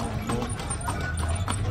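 Hooves of a horse pulling a tartanilla carriage clip-clop on a downtown street in Dumaguete City, a steady close rhythm of several hoof strikes over busy street noise.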